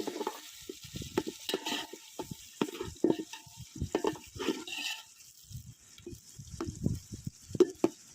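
Onions go into a hot pan and sizzle in oil while being stirred, giving irregular bursts of crackling and scraping at close range with no talking.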